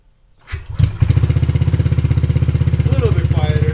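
A Honda ADV 150 scooter fitted with a Yoshimura exhaust and reducer starts up close by and settles into a steady, pulsing idle, with brief voices in the background.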